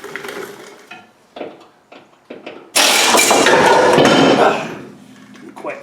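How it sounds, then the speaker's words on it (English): A pneumatic air chisel with a point bit hammers at a stubborn, rusted rear A-frame, starting with short separate bursts and then one loud sustained rattling run that fades off. "I think I'll have to change the bit on my air chisel"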